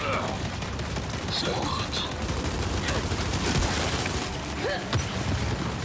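Turret gunfire in the video game Gears 5 comes as rapid bursts and pops mixed with booms in a dense, loud battle soundscape, while a player speaks briefly over the action.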